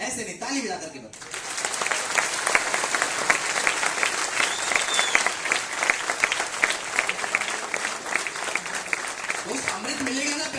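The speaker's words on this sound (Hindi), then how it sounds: "ऐसे नहीं, ताली बजा करके बताओ।" An audience at a product training session breaks into loud, sustained applause, many hands clapping together in a dense, steady roar that follows a brief spoken line.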